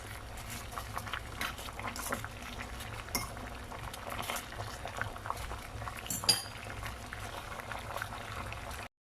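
Steady bubbling of water at a rolling boil in a pot while glass noodles cook, continuous and close, with a faint clink of metal partway through.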